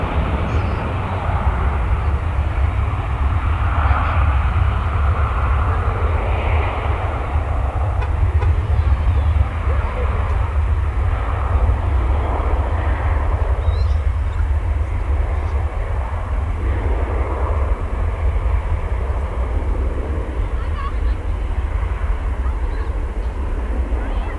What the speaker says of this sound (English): This is the one that's headed towards Ontario, California, Flight 2471 American Airlines and A321.